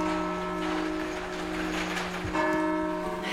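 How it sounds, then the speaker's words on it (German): Church bells ring out from a monastery tower in Bavaria, their sustained tolling tones layered and continuous, moderately close, with a fresh strike partway through and no talking. "jetzt kaum sind wir da, gehen die Glocken los"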